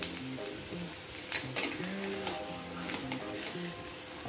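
A spoon stirs salted potato bhaji in a pan, scraping and clinking at a steady pace while the vegetables sizzle softly in the background.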